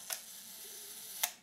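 A Rolleicord IV with Xenar 75mm f/3.5 lens and a sticky slow gear fires its leaf shutter at the 1-second setting: two crisp metallic clicks just over a second apart, with a faint mechanical whir between them, close and quiet.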